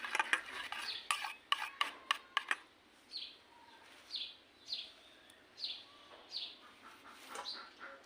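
Powdered sugar is mixed by hand into raw mango paste in a bowl for a rustic pancake batter, with a burst of quick clinks followed by rhythmic, soft swishing strokes, fairly quiet and close.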